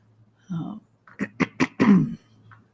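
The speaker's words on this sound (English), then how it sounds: "I have got a cough going." A short burst of coughing, several sharp hacks in quick succession followed by a throat-clearing rumble, close to the microphone.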